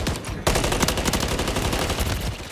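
An assault rifle is hip-fired in a ranked CDL online shooter match, producing a rapid, loud, continuous burst of automatic gunshots with no gap and no voices over it.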